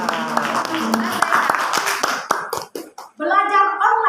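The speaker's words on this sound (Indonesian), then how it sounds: "Tepuk tangan" Children in an elementary school classroom clap their hands in a quick, loud rhythmic pattern, with spoken voices mixed in and talking continuing afterward.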